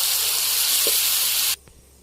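Village-style country chicken curry simmers in a covered pot, a loud, steady steamy hiss that cuts off abruptly, leaving a quiet room with a faint knock.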